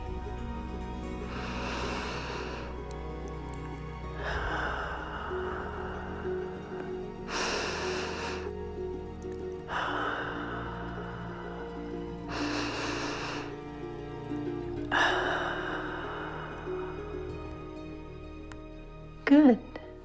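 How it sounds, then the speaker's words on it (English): Three slow, deep breaths during a guided breathing exercise, each a soft drawn-out inhale and exhale repeating at a steady pace, with a calm voice speaking quietly underneath. "take 3 deep breaths with me"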